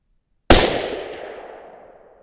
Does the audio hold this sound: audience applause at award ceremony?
no